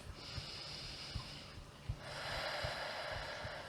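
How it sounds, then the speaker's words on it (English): A slow, soft breath drawn in and let out during a calf and hamstring stretch, quiet and close, with a faint steady hiss and low background hum. "One more breath, nice slow breath."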